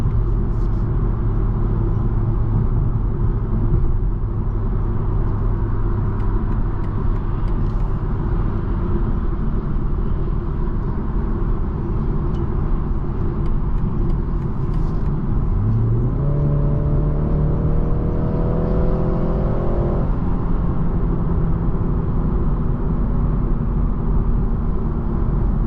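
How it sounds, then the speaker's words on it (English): A 2023 BMW 330i M Sport in sport transmission mode accelerates from inside the cabin, a steady engine drone whose pitch climbs, drops with a gear shift, then climbs again before settling. "I accelerate, and it's shifting"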